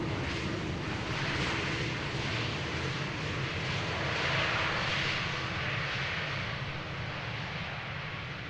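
Boeing 747 jet airliner landing at Schiphol's Polderbaan runway under cloudy skies, a steady broad engine roar that swells slightly in the middle and holds loud throughout, with no talk over it.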